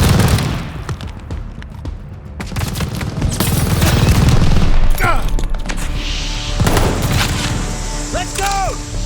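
Machine gun fire tears through a Call of Duty Vanguard battle in dense, rapid bursts. Heavy thuds and booms mix in, and whistling and mechanical sounds are heard toward the end.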